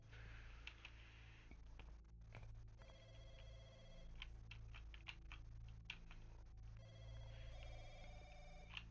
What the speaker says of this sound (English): Both of them seem to be ringing.